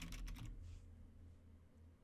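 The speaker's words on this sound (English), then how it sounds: "So let's type impressionist here." Quick computer keyboard typing, a short burst of a few keystrokes at the start, faint and close, followed by quiet room hum.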